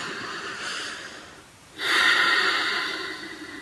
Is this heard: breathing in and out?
yes